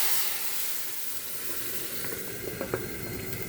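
Hot tempering for spinach dal sizzles close up with a dense hiss, steady throughout, with a few faint utensil clinks toward the end.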